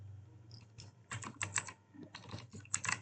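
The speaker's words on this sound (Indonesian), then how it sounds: "Di sini kita ketik saja" Quick bursts of keystrokes on a computer keyboard while text is entered in a Linux terminal, close and fairly quiet, with short pauses between clusters of key presses.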